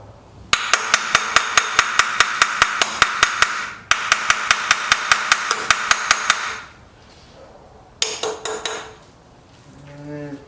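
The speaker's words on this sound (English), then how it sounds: "Got one of the carburetors kind of hard to get off. Tap on it a little bit." Rapid metallic tapping with a hammer on a stuck carburetor of a 1979 Triumph Spitfire, two fast even runs of sharp close strikes, then a pause and a shorter burst of taps.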